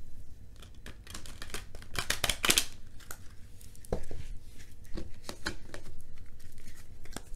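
Tarot cards are shuffled by hand, with a run of crisp papery riffles and slaps in irregular bursts, close and clear, without talk.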